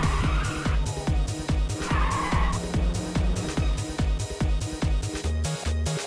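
A car in Ridge Racers 2 on PS5 slides through a drift, its tires squealing in long smeared tones over a loud, pulsing engine drone that keeps a steady rhythmic beat throughout.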